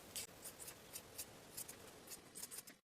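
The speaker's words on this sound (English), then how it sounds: "Trim the seam allowances and the bottom corners." Scissors trim fabric seam allowances and corners at a sewing table, a quiet run of crisp snips in uneven bursts, close and isolated, with no talk.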